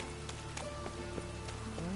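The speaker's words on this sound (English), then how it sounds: "Rain again." Steady light rain in The Witcher 3: Wild Hunt patters softly, with scattered drops tapping on a surface under a faint hum.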